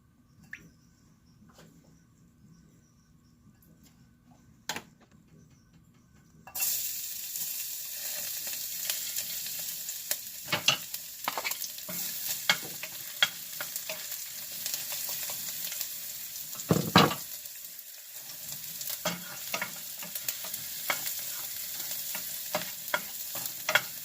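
Beef fries in three tablespoons of vegetable oil for creamy beef and mushroom. Quiet at first, then a loud, steady sizzle starts suddenly and carries on close up, with scattered pops and utensil scrapes.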